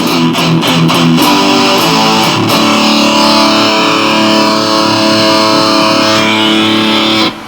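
Electric guitar played through a Metal Zone distortion pedal with reverb switched off gives a thick, heavily saturated tone. Loud sustained chords ring continuously for several seconds, with a few choppy strums at the start and no talking.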